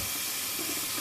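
Running tap water splashes steadily as a Boker Tree Brand straight razor is rinsed after a shave, a brief close, continuous hiss with no talking.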